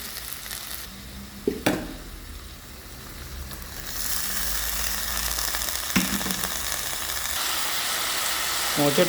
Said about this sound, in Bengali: এভাবে দিয়ে আপনার সাত থেকে আট মিনিট এভাবে ভুনে ভুনে নেবেন